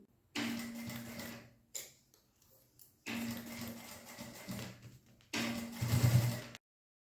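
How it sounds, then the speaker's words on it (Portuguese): A sewing machine running a safety seam along the edge of a small fabric pouch, three close bursts of rapid stitching about a second or more each, separated by quiet pauses with faint handling noises, no talking. "Agora, é só ir lá na máquina e fazer uma costura de segurança em toda essa borda"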